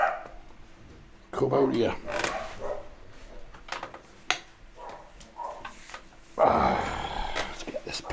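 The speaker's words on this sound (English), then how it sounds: "I think the dogs are after my attention" Dogs bark and whimper in a room, with bursts of barking close by, broken by quieter stretches, while someone talks over them.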